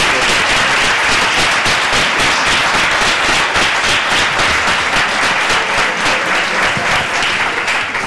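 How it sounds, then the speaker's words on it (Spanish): An audience at a Spanish conference on agricultural labour reform breaks into loud, sustained applause, dense clapping filling the room throughout. "le doy un aplauso a estas 5 personas que han"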